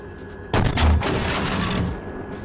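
A tank cannon in Steel Beasts Pro fires a HEAT round: one heavy, booming blast with a low rumbling tail that slowly fades.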